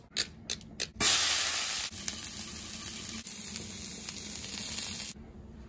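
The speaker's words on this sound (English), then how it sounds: "Char the asparagus." Par-cooked asparagus chars on a hot Blackstone griddle. A few light taps come first, then a loud, steady sizzle and hiss fill the rest, close up.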